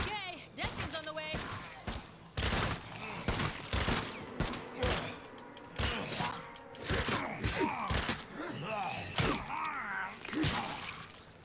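Bursts of gunfire from 7.62 rounds in the video game State of Decay 2 crack out in rapid, uneven volleys, mixed with thuds and a voice speaking between shots.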